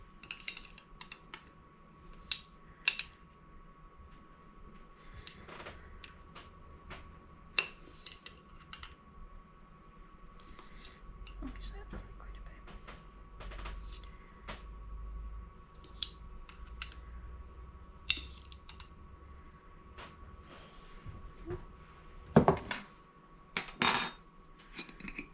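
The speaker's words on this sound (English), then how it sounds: "I'm going to start by putting 1 teaspoon of salt in each jar" Salt being spooned into glass canning jars while preparing seasoned black beans for canning, heard as scattered light clinks and taps of a metal spoon against glass, with a few louder clatters near the end.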